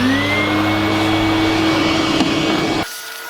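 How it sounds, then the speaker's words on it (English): A vacuum cleaner sucks crud out of the inside of a Porsche 944, a loud steady whine with a droning motor that runs continuously and then cuts off abruptly near the end. "I'm going to vacuum out a lot of this crud from inside of here."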